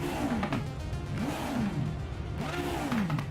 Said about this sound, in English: You hear the exhaust crackle and backfire when you're in the car